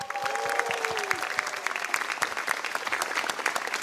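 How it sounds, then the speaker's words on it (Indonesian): A studio audience at a televised grand final claps to welcome a judge, a dense burst of applause running throughout, with a host's voice briefly heard near the start. "Mari kita beri tepuk tangan untuk Dr."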